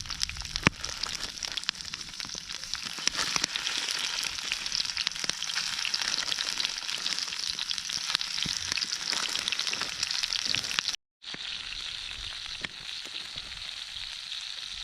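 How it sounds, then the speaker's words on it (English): Sausages frying in a cast iron pan over an outdoor fire, a steady close sizzle and crackle running throughout with a brief dropout near the end, no talking. "So I got some sausages I'm going to throw in a cast iron pan, cook them up"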